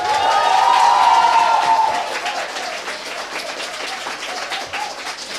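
A crowd at an economics session claps and cheers, a high shout rising over the applause at the start before the clapping settles into a steadier, slightly softer patter.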